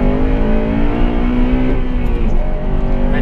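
A sports car engine holds a loud, steady high-rpm roar close by in third and second gear up to 4,000 revs, its pitch nearly constant with a slight rise near the middle.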